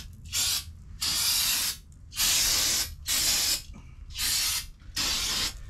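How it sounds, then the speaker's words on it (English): Several short bursts of brake cleaner hiss from an aerosol can onto Ford F-250 front brake parts, six or so sprays separated by brief pauses, close and fairly loud. "you want to spray everything down with some brake cleaner."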